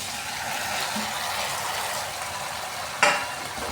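Chopped pumpkin going into hot tempering oil, giving a steady broadband frying sizzle throughout with a brief louder burst near the end, no talk.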